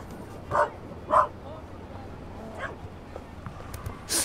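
A dog in The Raven video game barks a few times, with short sharp yips spaced out over a few seconds against a quiet background and a louder yelp at the end.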